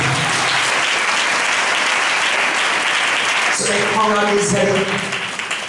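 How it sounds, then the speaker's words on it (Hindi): A church congregation claps loudly and continuously in a sustained burst of applause, with voices rising over it toward the end. "हम उस महान परमेश्वर के लिए जोरदार ताली बजाएं।"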